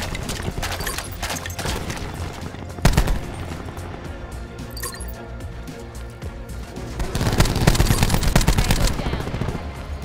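Rapid automatic gunfire in Black Ops 4 rattles on without a break, loud and close. A sharp single blast comes early on, and a heavier volley builds toward the end.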